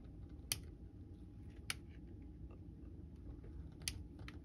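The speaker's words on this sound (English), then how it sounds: "I'm just going to cut these rungs off" A hobby blade, apparently worn dull, cuts the rungs off a plastic model kit, giving three sharp, faint clicks spread apart over a steady low room hum.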